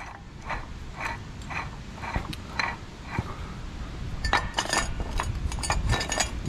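A Scheppach HSC 130 stone splitter working on a roughly 10 cm stone gives a run of clicking, ratcheting mechanical knocks and creaks, spaced at first and then denser and louder toward the end, with no talk.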